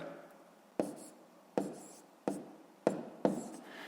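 Pen writing numbers on paper while working a long division problem by hand, heard as five short scratchy strokes spaced about every half to one second, close and quiet.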